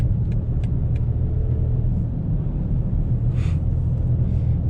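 A 2019 BMW X5 30d xDrive cruises a Swedish country road, heard from inside as a steady low engine and tyre rumble with faint road noise and no talking.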